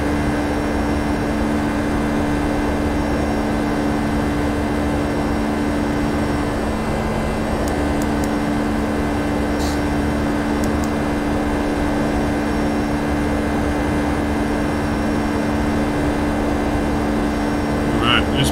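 Steady, continuous engine roar of a FlightFactor Boeing 757 freighter taking off in X-Plane 11, a constant loud jet drone with a few faint clicks, lasting throughout.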